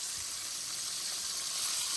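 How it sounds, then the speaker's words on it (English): Steady, dense sizzling and crackling of pork loin chops frying in a pan, continuous and fairly quiet, with no voices. "KendyK is frying some pork chops"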